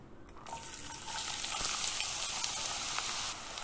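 A cup of chopped onions sizzles in a pot over medium heat for vegan mujadara, a steady close frying hiss that grows a bit louder after the first second and then eases near the end.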